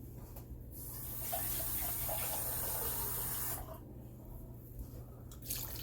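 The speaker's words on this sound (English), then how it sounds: "I'm gonna add about a half a can from one of these chili cans of water." Water pours from a can into a pot of lamb chili in a steady splashing stream for a few seconds, then stops, with a low background hum throughout and no talking.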